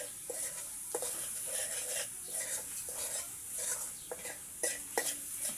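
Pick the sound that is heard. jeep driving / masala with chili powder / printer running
masala with chili powder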